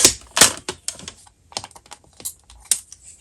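A paper trimmer slices through a sheet of patterned craft paper at the 5.5 mark, giving a few quick, crisp scraping cuts in short bursts, close and fairly loud with gaps between them.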